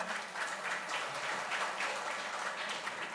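Audience applause at a Shiv Sena foundation day event in Goa, a dense, sustained patter of many hands clapping across the whole stretch.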